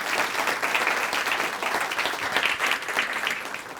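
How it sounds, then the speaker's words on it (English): An indoor audience claps for volunteers at a community meeting, a steady, dense round of applause held at moderate loudness throughout. "Let's give them a great round of applause."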